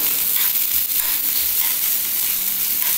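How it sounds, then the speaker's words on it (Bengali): Onion frying lightly in a pan for homemade egg momos, a steady close hiss and sizzle running evenly throughout with no voices. "পেঁয়াজটা থেকে একটু হালকা করে ভেজে নিচ্ছি"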